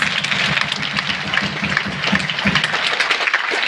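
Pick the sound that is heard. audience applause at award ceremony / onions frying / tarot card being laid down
audience applause at award ceremony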